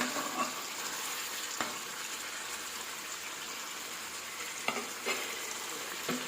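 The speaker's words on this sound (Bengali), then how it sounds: "আর একবার ভালো করে নেড়ে চেড়ে নেবো" Meat curry sizzles quietly in a pan while it is stirred, a low, continuous frying hiss with a few sharp scrapes from the utensil.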